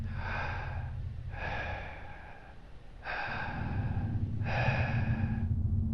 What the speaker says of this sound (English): The only sound was my own breathing.